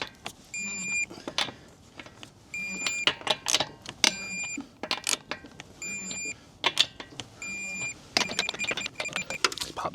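Torque wrench clicks while lug nuts are tightened on a car wheel to 76 foot-pounds during a wheel swap, heard as a series of sharp, close clicks and clatters in bursts with short pauses.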